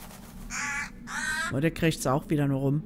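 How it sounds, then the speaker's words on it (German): A raven in the game Dark Parables gives two harsh caws, close and loud, followed by someone talking. "Oh, da ist ein Rabe."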